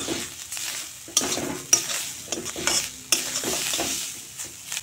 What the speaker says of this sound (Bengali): নারকেল এভাবে নেড়ে চেড়ে একটু ভেজে নেব।